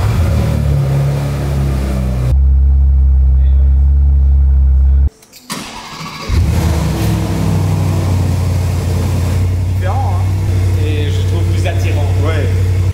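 A supercar engine, either a W12 or a V8, idles with a steady low rumble, cuts out briefly midway, then runs again with a couple of short revs. People talk throughout.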